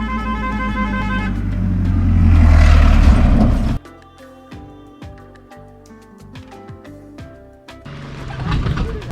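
A car stuck after an accident on the way to Thottikallu Falls near Bangalore roars loudly as its engine strains and revs, then cuts off abruptly, leaving quieter tonal honks and shuffling noises.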